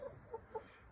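Laying hens clucking inside an old truck-cap chicken coop, a couple of soft short clucks close by but faint over a noisy background.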